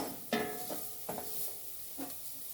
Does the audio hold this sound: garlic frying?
yes